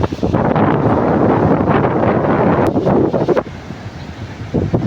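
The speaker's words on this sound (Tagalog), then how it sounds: "Kasi ngayon sa lakas ng hangin at yan, aalon pa." Strong wind buffets the microphone at Don Mariano beach resort, with waves washing on the shore beneath it. The roar is loud and continuous, then eases slightly near the end.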